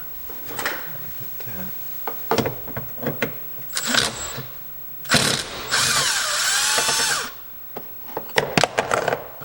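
A socket wrench with a 10mm socket works a door bolt on a 2009 Chevy Silverado passenger door. Close metallic clicks and clanks come in irregular bursts, with a longer sustained grinding stretch in the middle.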